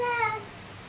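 A cat gives a single short meow at close range, falling in pitch and fading within half a second, with no other sound over it.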